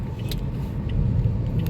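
Rented car driving on the road to Mambajao in Camiguin, recorded from inside the cabin: a steady low engine and road rumble that swells slightly, with a few small light rattles on top.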